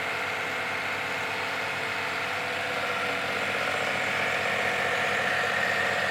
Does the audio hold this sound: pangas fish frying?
no